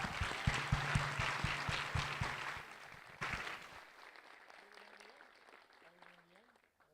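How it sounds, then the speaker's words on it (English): An awards-ceremony audience gives the winners a round of applause, dense clapping for about three seconds that fades to scattered claps, with people talking over the tail. "So let's give our winners one more big round of applause."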